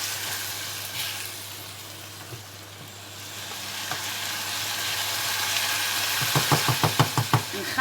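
Spaghetti cooks with minced meat and peppers in a pan, sizzling steadily and close up, swelling louder until a run of quick scraping, clattering stirs breaks through at the end.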